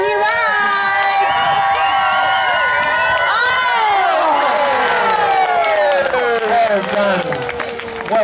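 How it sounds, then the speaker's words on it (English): A crowd at a spring fair roars and cheers for a rider at a jousting ring-tilting event, loud continuous shouts, whoops and children's high yells rising and falling, with scattered clapping mixed in. "The louder you cheer, the faster he rides."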